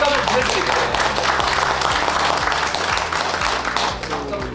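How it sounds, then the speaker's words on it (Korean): Audience at a Korean civil society gathering applauds steadily, a dense sustained clapping that stays loud throughout, with a voice murmuring underneath. "박수 한번"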